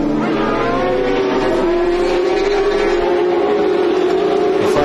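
Ferrari 575 Maranello GT race cars accelerate at a restart after a safety car period at Oschersleben in the 2004 FIA GT Championship, a loud continuous engine roar rising steadily in pitch as the pack pulls away.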